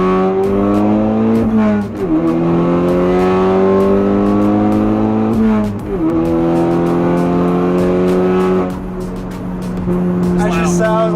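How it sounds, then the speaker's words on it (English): An all-wheel-drive hot hatchback, a Ford Focus RS or VW Golf R, revs hard through the gears, its loud engine note climbing in pitch and dropping at two shifts, with voices talking over it. "That shit sounds like a straight race car."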